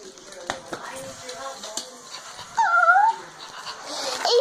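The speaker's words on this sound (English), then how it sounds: "It's a little puppy." A little puppy whimpers and yips in short, high-pitched cries close by, with handling noise and soft voices around it and a louder whine near the middle.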